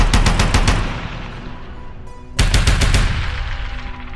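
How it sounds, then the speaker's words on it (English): Loud bursts of machine gun fire, a rapid rattling volley that cuts off, then a second sustained burst after a short pause, close and alone. "A burst of gunfire shatters the silence."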